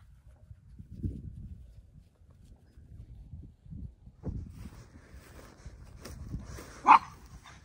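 A pug gives a few soft, muffled barks and huffs in a yard, with one sharper bark near the end, quiet and nearby over low rumbling background noise.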